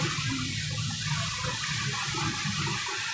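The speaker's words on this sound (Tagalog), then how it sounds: "Sobra talagang lalim ng baha." Deep floodwater covering a street after heavy rain rushes and churns in a continuous broad wash, loud and close with no talking.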